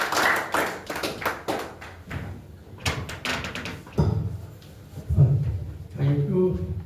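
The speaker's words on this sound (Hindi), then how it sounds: "आप लोग बढ़िया बैठे बैठे एक ताली दीजिए उनके लिए।" Seated audience at an indoor presentation clapping, a burst of scattered hand claps that thins out, with voices talking over and after it.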